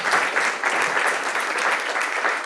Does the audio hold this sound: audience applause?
yes